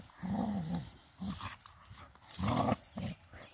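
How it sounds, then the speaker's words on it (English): Chocolate-colored puppies growl and yip in short, close bursts with small gaps between them, playful snarls at a trailside camp along the Appalachian Trail. "Vicious chocolate puppies."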